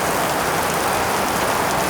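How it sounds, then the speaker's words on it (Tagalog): Heavy rain pours down in a dense, steady roar close by, a constant broadband wash of drops hitting surfaces with no pauses and no voices. "dahil ang lakas ng ulan"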